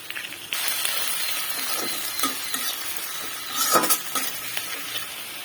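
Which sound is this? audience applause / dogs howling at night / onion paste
onion paste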